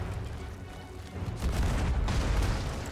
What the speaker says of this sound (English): I killed one of them with the cannon